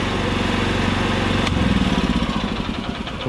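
A used Japanese rice transplanter's small engine runs steadily up close, a loud, even chugging throb that grows slightly rougher and more uneven partway through, with no voices over it.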